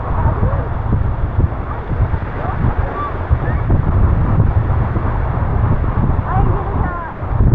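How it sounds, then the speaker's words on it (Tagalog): Strong ocean wind roars across the microphone in steady gusts at Dingalan, Aurora, with waves rumbling underneath throughout. "Kaya sobrang lakas ng hangin dito."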